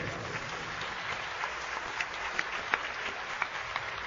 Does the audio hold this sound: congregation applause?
yes